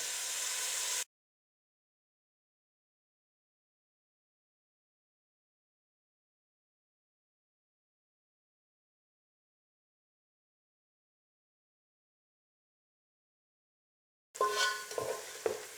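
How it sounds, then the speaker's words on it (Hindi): Onions fry for bhuna gosht, giving a steady hiss and sizzle for about a second at the start and again near the end, with complete silence in between. "प्याज तकरीबन ब्राउन होने की तरफ जा रहे हैं।"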